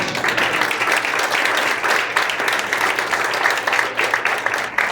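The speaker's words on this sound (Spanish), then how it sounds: "Aplauda a Cristo" A church congregation applauds Christ during a sermon, with thick, continuous clapping from many hands that holds steady and fairly loud the whole time.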